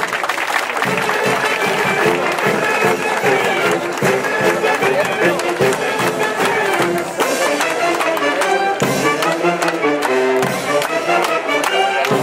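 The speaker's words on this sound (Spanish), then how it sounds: "Damas y caballeros, fuerte el aplauso" A crowd applauds after the ribbon cutting that opens a memorial, with dense, loud and sustained clapping, cheering and crowd noise throughout, and some voices mixed in.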